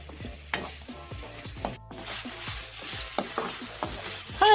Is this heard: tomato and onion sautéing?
yes